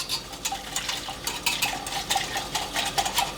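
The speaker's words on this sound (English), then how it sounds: "I'm going to whisk until it's a smooth mixture" A whisk beats cornmeal porridge mixture in a pot with quick, rhythmic scraping strokes and light metallic taps against the sides, close and continuous, with no one speaking.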